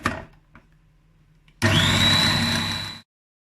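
Kitchen food processor mixing raw çiğ köfte ingredients, with a few light knocks, then the motor starting abruptly and whirring loudly and steadily for about a second and a half before cutting off.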